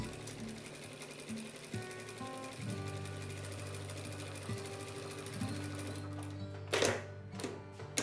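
Sewing machine fitted with a gathers and pleats presser foot stitching fabric: steady rapid mechanical whirring and clatter that stops and restarts in a few runs, close and clear, with no talking.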